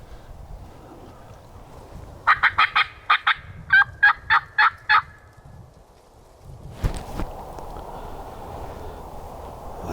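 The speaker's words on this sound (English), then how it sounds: "That bird just gobbled out the blue" Wild turkey gobbling during a South Carolina hunt, one rapid rattling gobble of several quick pulses, moderately close and loud over a quiet woodland background, followed by a brief rustle or thump.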